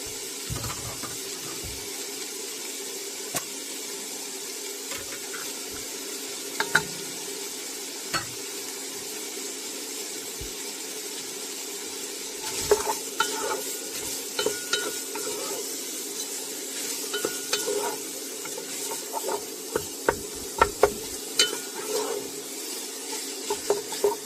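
Chopped onions and garlic sizzling in a pot while being stirred, a steady frying hiss with scattered scraping and clinking of the spoon against the pot, close up and without talk.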